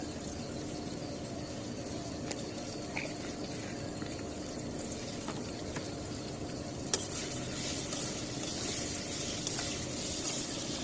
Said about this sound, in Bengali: পেঁয়াজ ভাজা হয়ে গেছে, লাল করে বেশি ভাজছি না, হালকা ভেজে নিচ্ছি।